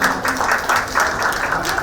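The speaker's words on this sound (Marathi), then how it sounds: "एकदा जोरदार टाळ्या होईल." An audience at a celebration gathering applauding, dense rhythmic clapping from many hands filling the room at a strong, steady level.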